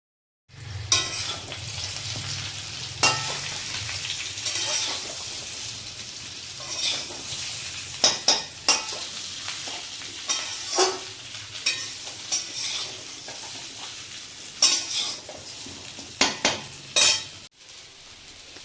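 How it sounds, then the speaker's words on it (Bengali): Fried vegetables are stirred in a pan while cooking dudh shukto, a soft steady sizzle beneath repeated scraping clicks of a spatula against the pan, close and fairly loud, ending abruptly. "এক এক করে ভেজে রাখা সব সবজিগুলো দিয়ে দেবো, বেগুন ছাড়া।"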